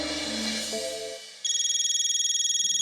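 A phone rings on an outgoing call, a steady repeating electronic ring tone heard close and clear after a brief burst of other sound.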